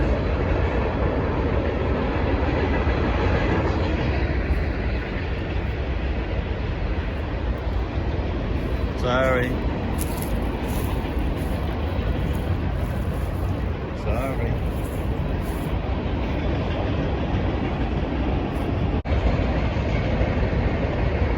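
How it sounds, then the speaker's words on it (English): A loud, continuous rumble and rattle of a train passing close by a cemetery in Weatherford, Texas, holding steady the whole time, with a voice briefly speaking over it. "here comes the train, which is going to be super noisy"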